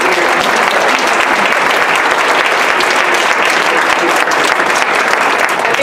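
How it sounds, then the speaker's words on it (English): Audience applause at a Black History Month presentation, loud, sustained clapping from a large crowd filling the whole stretch without a break. "let's give one more big round of applause"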